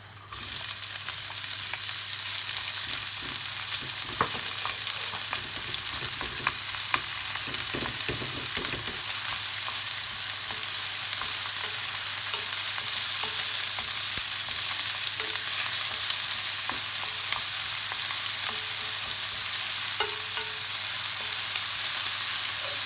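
Onions fry in hot oil for a seafood pasta, producing a loud, constant sizzle after an initial burst, with occasional scraping stirs of a spoon beneath the steady crackle.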